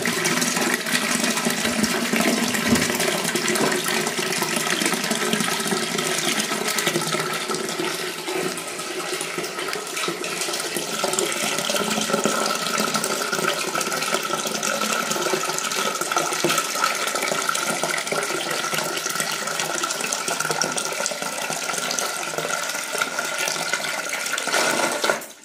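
Water rushes steadily into a toilet cistern fitted with an automatic water level control pump, a continuous hissing fill that stays even throughout the clip.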